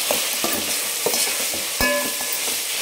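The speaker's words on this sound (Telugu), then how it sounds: "ఇవన్నీ బాగా ఈవెన్గా వేగనివ్వాలి." Tomato rice masala with potatoes frying in a pan while being stirred, giving a steady close sizzle broken by several sharp scraping and clinking strokes of the spoon against the pan.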